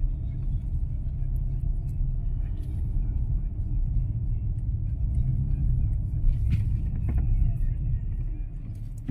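A Jeep Cherokee with a brake pulsation complaint drives slowly around a parking lot on a road test, its steady low engine and road rumble running throughout while someone speaks over it.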